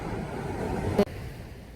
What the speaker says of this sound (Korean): 우와, 파도 소리 때문에 목소리가 안 들릴 것 같은데